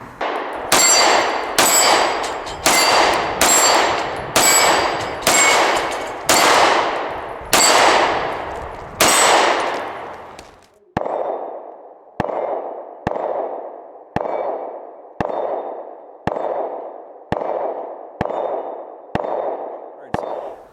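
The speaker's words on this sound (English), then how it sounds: "shots on the plates downrange at 10 yards" An HK P30SK DA/SA 9mm pistol fires at steel plates 10 yards downrange, giving about a dozen loud reports and metallic rings, first in quick succession with echoing tails, then as crisp single clangs at a steady pace.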